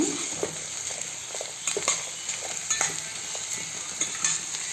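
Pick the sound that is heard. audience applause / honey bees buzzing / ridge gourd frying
ridge gourd frying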